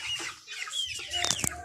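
Colombian Brahma chickens, light and buff colored and a little over three months old, clucking and chattering close by in a short burst of several overlapping calls.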